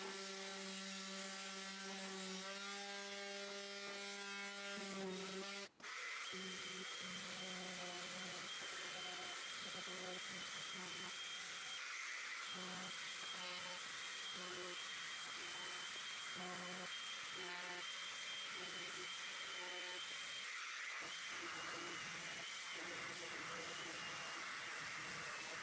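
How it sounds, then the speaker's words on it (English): An electric sander rounds off the curved edges of painted wooden holiday decorations, producing a steady, close, buzzing whir with shifting grind. It follows a few seconds of humming tone and carries on alone. "round off the curved edges for a clean look and feel with the sander"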